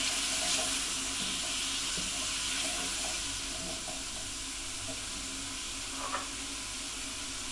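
Chili powder and cumin stirred into a frying pan for a vegetarian sausage and bean casserole, giving a steady close sizzle and hiss with faint spoon scrapes, no talking.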